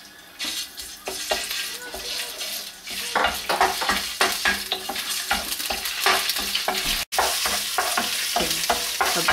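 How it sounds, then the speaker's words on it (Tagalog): Garlic sizzles in hot oil in a pan, its steady frying hiss broken by repeated sharp scrapes and clinks of a utensil stirring against the pan, close and with no voices. "Then, gisa natin yung garlic."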